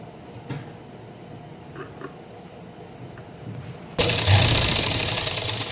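A sewing machine stitches a pocket onto a salwar. After a few seconds of quiet room noise with small taps, a loud, steady motorized whir starts abruptly and runs on close by.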